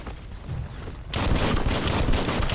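Gunfire in the video game Biomutant, a quieter stretch that gives way to a sudden loud, sustained burst of rapid shots.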